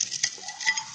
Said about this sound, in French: On va remuer.